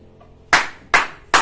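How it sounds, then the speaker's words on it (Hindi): Three sharp hand claps spaced about half a second apart, close and loud in a quiet room, made to trigger a clap-activated phone finder. "ताली मारिए आप अभी।"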